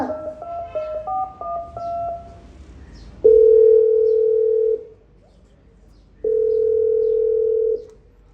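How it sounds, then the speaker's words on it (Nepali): Quick tones of a number being dialed, then two long, loud, steady ringback tones separated by silence. "फोनको घन्टी बज्छ।"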